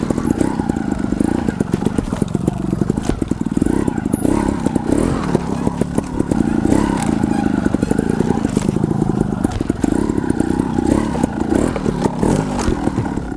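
A trial motorcycle ridden over wooden pallets with a stoppie, its engine chugging and blipping close by amid clattering knocks of tyres on wood, continuous and loud throughout.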